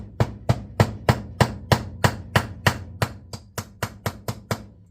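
Metal pin being hammered into a vintage D.A.M. Quick Finessa fishing reel during repair: about sixteen sharp, close taps in a steady, even rhythm, each a bright ringing click, with no talking.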